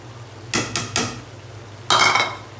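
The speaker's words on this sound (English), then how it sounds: "Then I need a quick stir." Pasta and noodles get a quick stir in a pan: three short scraping clatters of utensil against metal, a pause, then a longer rough scrape, all close and fairly loud with no speech.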